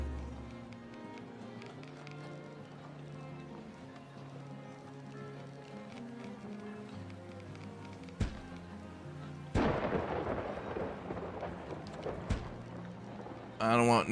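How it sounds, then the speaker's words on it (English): Thunder and lightning strike in the city-building survival game Farthest Frontier. A sudden broad crash cuts through ongoing game music and is followed by a sustained rumbling wash, then another sharp burst near the end. "I don't want no damn lightning hitting my buildings."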